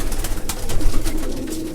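Racing pigeons coo loudly and close by in a breeding loft, repeated throaty rolling calls overlapping amid rustling and shuffling, with no talking.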